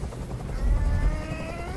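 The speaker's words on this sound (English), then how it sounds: "I can't stand that noise anymore. Tell that helicopter to get out of here." A helicopter in a video game, a steady low rotor drone holding for a couple of seconds and swelling briefly near the middle, fairly loud with no talk.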